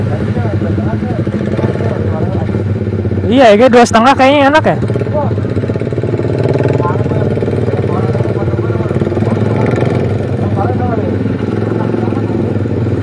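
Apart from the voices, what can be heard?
Suzuki GSX-R150 motorcycle with aftermarket exhaust revving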